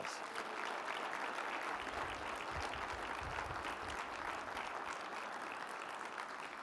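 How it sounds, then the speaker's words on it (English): A community breakfast audience applauds Robert H. Quinn, a steady, dense wash of many hands clapping that fills the whole room at even volume throughout. "Let's give him a round of applause."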